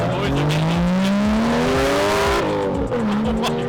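Drift cars rip around the track at a drift event, engines screaming and revving hard with rising and falling pitch, loud and close, tires squealing, a dense continuous roar.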